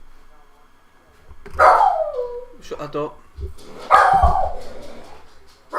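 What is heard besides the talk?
dogs barking at a delivery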